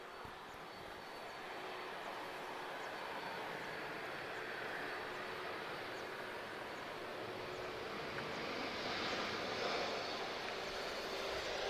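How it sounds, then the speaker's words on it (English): A TAP Embraer E195 advanced-range jet arrives at Lisbon Airport, its engine roar a steady distant drone that slowly builds and peaks toward the end, with no talking. "This is an Embraer E195 advanced range."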